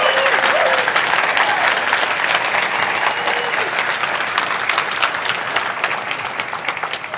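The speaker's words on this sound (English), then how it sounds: "let's clap it out. Let's go." Audience applause at the close of a landscaping business summit: dense, sustained clapping from a large crowd that stays loud and steady, fading slightly toward the end.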